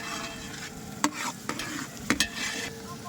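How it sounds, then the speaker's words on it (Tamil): A spoon stirs a dried chili and garlic mix into egg semiya in a pan, with soft scraping and several sharp clinks of metal against the pan over a faint background hum. "காஞ்ச மிளகா இது பூண்டு அந்த மிக்ஸை நல்லா போட்டு கலந்துக்கலாம்"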